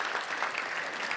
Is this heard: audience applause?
yes